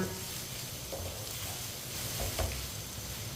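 Pieces of tinda (round gourd) fry in a hot pan, giving a steady, close sizzle and hiss with a few brief stirring scrapes, and no talking.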